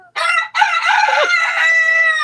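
A rooster crows loudly and close: a short opening burst, a brief gap, then one long, strained cock-a-doodle-doo that carries on to the end.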